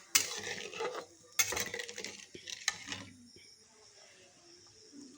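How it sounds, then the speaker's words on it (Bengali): A spoon clinks and scrapes against a pan while mustard paste is stirred with water, a few sharp metallic strikes followed by softer mixing that fades near the end. "সর্ষেটা জলের সাথে ভালো করে মিশিয়ে দিচ্ছি।"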